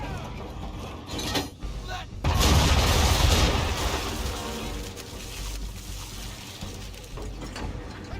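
Broadside of ship cannons from an Assassin's Creed III naval battle, a heavy booming burst that swells loud around the middle and then rumbles and fades into sustained sea and battle noise.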